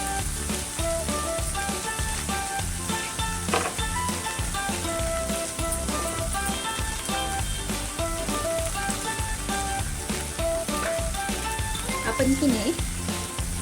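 Onion, ginger and garlic sizzle in a pan for Maharashtrian matki usal, a steady crackling hiss that continues throughout, close and fairly loud, with a voice talking over it.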